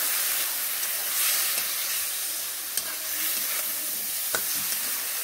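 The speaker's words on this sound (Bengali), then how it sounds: "জল মিশিয়ে নেড়ে নিচ্ছি" A steady sizzling hiss fills the pan as drumsticks simmer with turmeric and added water. One or two faint spoon clinks are heard during the stirring, close up with no voices.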